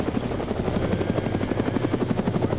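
A helicopter in the video game Arma 3 thrums loudly, its rotor blades beating in a fast, steady chop that stays close and dominant throughout.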